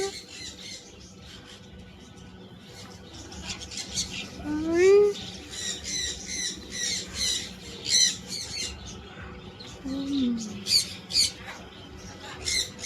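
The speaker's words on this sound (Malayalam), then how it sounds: "പൊന്നി ഇവിടെ വരണ്ടല്ലോ, നമുക്ക് ലൈവായിട്ട് കൂട്ടിലിടാതെ എല്ലാ കിളികളെയും കാണാം." Birds kept outside a cage chirp and squawk repeatedly: sharp, bright calls in irregular bursts, with a couple of rising squawks standing out over a low background rumble.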